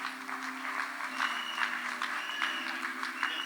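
Applause from a congregation at a religious wedding in a church, steady clapping from many hands at a moderate distance, continuous throughout.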